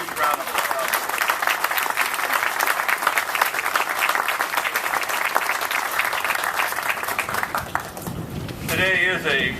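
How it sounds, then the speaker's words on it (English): At a ribbon-cutting ceremony for Involta, the crowd claps for elected officials. Loud, close, dense clapping sounds with a few cheers and continues throughout. Near the end it gives way to a brief tonal sound and a voice. "Let's give our elected officials a huge round of applause."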